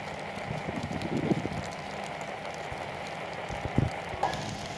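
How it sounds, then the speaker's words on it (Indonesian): Steady rain patters over a low background hum at Merak harbour, calm with no waves, with a few scattered knocks and clanks in the distance; no voices. "Cuaca mah tenang, cuman nggak ada ombak, cuman hujan aja nih Pelabuhan Merak."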